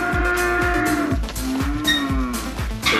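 A cow moos repeatedly at a cattle sale, a series of loud, close, low bellowing calls in quick succession, some overlapping, with no talk over them.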